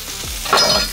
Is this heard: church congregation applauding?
no